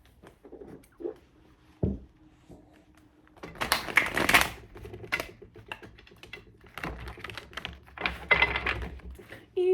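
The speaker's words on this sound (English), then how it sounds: "we're shuffling everything back up" A tarot card deck being shuffled: scattered soft flicks, then bursts of quick riffling and card patter, close and fairly quiet, with pauses between.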